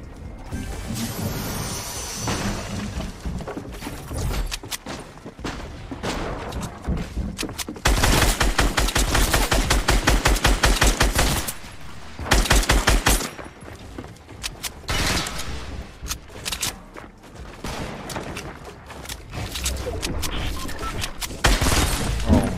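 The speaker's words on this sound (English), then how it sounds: "the heavy sniper is just so loud" In a Fortnite match, dense video-game gunfire includes rapid bursts and heavy sniper-style shots, along with mechanical clatter and crashes. It is loud and nearly continuous across the stretch, with no speech.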